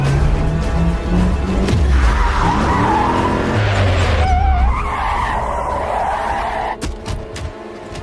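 Car speeding off in a movie scene with a troll chasing it: loud roaring engine and long screeching tire skids that rise and fall in pitch, followed by scattered thumps and impacts near the end.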